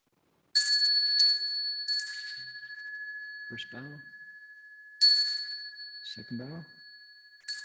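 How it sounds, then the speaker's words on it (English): A small bell is rung at a Buddhist lecture, struck three times with long clear ringing tones that decay slowly, while someone speaks briefly between the strikes. "I've got my bell here and I'll ring it 3 times"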